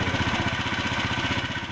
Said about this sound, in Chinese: 轰隆的马达声带着慈济志工离岸边越来越远